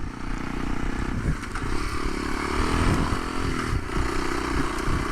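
A dirt bike engine runs continuously while riding, a close, loud, droning motor note with slight rises and falls in revs and rough wind noise throughout.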